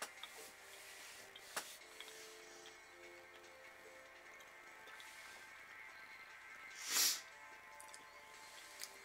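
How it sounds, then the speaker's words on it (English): A couple of short nasal sniffles from someone getting over a cold break an otherwise quiet background, one brief early and a louder, sharper one later. "excuse the sniffling, I'm getting over a cold."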